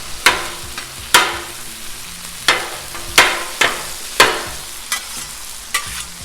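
Corned beef hash sizzles on a Blackstone griddle while a metal spatula chops it in sharp, irregular scraping clacks roughly every second, loud and close with no talking.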